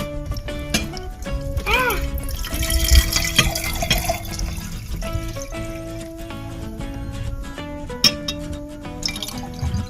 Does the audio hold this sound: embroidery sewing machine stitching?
no